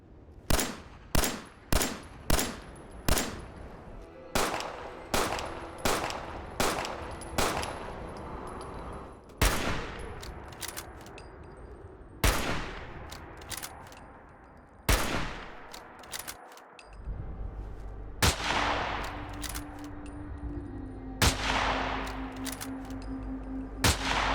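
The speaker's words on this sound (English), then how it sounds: "Here's the 10mm pistol and the hunting rifle." Modded 10mm pistol and hunting rifle shots from Fallout 4, a long series of loud, sharp reports, first rapid and evenly spaced, then slower single blasts with ringing tails and mechanical clatter between.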